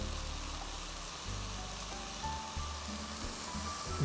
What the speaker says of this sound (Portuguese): o pimentão e a cebola refogando